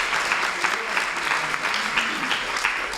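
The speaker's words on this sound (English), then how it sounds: "Let's please have a hand of applause for Gladys" Sustained clapping from a banquet audience at a conference dinner honouring a guest, a dense steady patter of many hands held at even loudness across the moment, with no voices breaking through.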